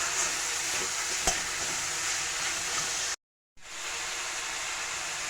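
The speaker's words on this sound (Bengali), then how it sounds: "টমেটোটাকেও পেঁয়াজ রসুন আদা মরিচের সাথে একটু মিশিয়ে নিচ্ছি" Chopped tomato being mixed into onion, garlic, ginger and chili in a hot pan gives a steady, close sizzle with soft stirring scrapes and a single sharp click, then cuts to silence for a moment before the frying hiss resumes.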